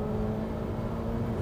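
Ferrari 488 Spider 2016 with a turbocharged engine pulling hard in fifth gear, a steady droning roar heard from inside the car, continuous and moderately loud.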